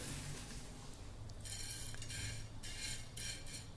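Coriander seeds being dry-roasted in a pan for a stuffed brinjal masala curry, with light scraping and clinking of a utensil stirring them and a few brighter rattling bursts, close and fairly quiet, no talking.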